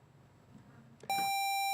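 After a quiet murmur, a sharp electronic quiz show buzzer sounds abruptly and holds as a steady, piercing tone.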